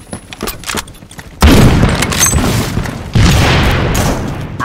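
Loud gunfire in the Roblox game Phantom Forces, a close blast followed by a second heavy shot, with quieter clicks and game noise before them.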